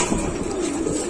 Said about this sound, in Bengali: এদের সামনে নর ডাকতেছে